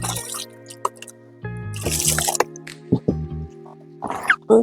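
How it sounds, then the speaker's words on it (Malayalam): Water poured onto crumbling coir pith for seed starting, giving a few short wet drips and splashes between quiet gaps, with soft handling and rustling noises in between. "ഇങ്ങ് കുറച്ച് വെള്ളം കൂടെ ഒഴിച്ചു കൊടുക്കാം"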